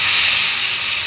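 Soaked taro leaves hitting hot frying oil give a steady, loud, close sizzle, a dense hiss that holds unbroken throughout with no talking.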